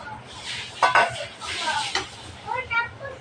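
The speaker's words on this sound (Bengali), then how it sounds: "ঝোল দিয়ে একটু নাড়াচাড়া করে নেব" Fish and pointed gourd curry stirred in a pot, with light metallic clinks and scrapes of a utensil against the pot coming in short bursts over a soft simmer.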